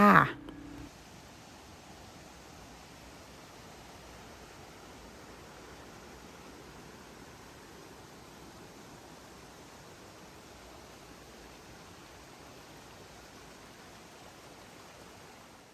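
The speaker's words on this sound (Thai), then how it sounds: "ซึ่งเขาก็จะมีลำธาร น้ำตกน้อยๆ" A small stream and little waterfall beside a temple in a Thai mountain village make a steady, unbroken rush of water, with a brief thump at the very start.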